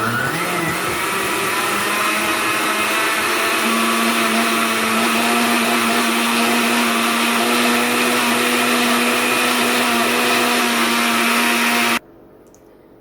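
Blender running on its milkshake setting while making a homemade Frosty, a loud continuous whirring motor with a rising pitch that roars steadily for about twelve seconds before cutting off abruptly.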